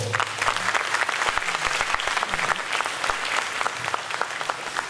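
Loud, sustained applause from a theatre audience at a school excellence and retirees' celebration at the National Theatre in Dakar, dense clapping filling the hall without a break.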